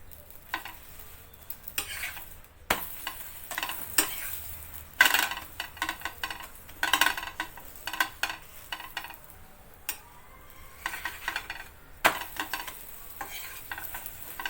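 Puran poli flatbread cooks in ghee in a pan, a soft sizzle running under repeated close scrapes and clinks of a spatula turning and pressing it, with no one speaking.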